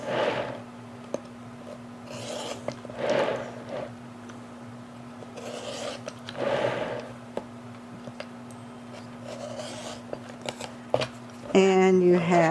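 Scissors snip through quilt fabric pieces for a drunkard's path block in a few short bursts near the end, after a stretch of quiet handling noise and faint background hum.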